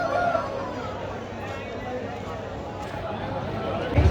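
An Aseel rooster crows amid a noisy crowd at a poultry market, with steady chatter and bustle around it and a louder burst at the end.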